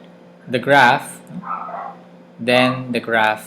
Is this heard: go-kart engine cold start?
no